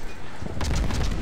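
Ship guns of the USS Benson fire salvos in the World of Warships game, heard as a burst of rumbling, overlapping booms over steady background noise.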